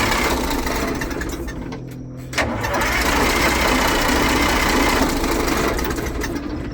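A Detroit Diesel engine sputters and turns over as fuel finally reaches it, its rough, loud running broken by a brief dip before it picks back up.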